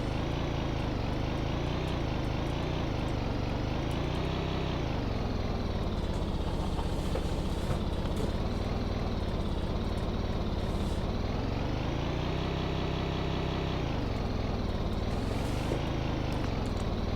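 Engine of a homemade vehicle in modded Minecraft, a continuous loud droning motor whose pitch rises and falls repeatedly as the throttle surges and eases, running alone for the whole stretch.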